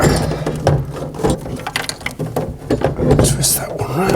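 A heat exchanger part on an Ideal Logic boiler is pushed back into place and twisted until it locks. Close plastic and metal clicks and ratcheting knocks come in irregular bursts, with a voice talking quietly at points.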